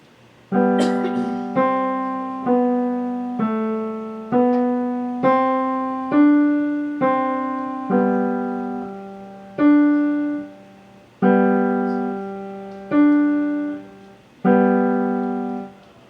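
A keyboard plays a short passage of Bach's Musette, plucked-sounding chords and notes in a steady, dance-like rhythm, each note decaying quickly, with no talking.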